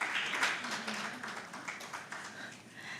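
Audience at a women engineers and scientists conference in Kigali claps for an invited panelist; scattered, fairly soft applause with a few sharper claps near the start, tapering slightly over a few seconds.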